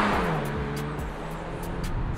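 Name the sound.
car accelerating at full throttle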